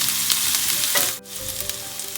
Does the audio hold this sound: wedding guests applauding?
no